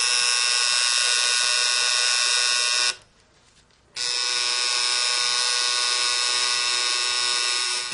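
A tattoo machine buzzes steadily while shading black ink into skin, a loud, close electric drone that cuts out for about a second, then resumes unchanged.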